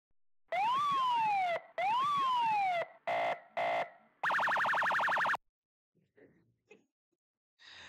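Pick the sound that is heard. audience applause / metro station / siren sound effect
siren sound effect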